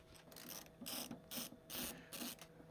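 Screws being backed out of the rear of a CED videodisc player, giving faint close-up rhythmic ratcheting clicks in about five short bursts with pauses between them.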